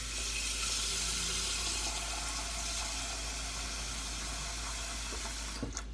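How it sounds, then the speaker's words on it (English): Tap water runs steadily into a cooking pot in a home kitchen, a continuous rushing fill heard alone with no talk. "then we're gonna fill the pot up with some water"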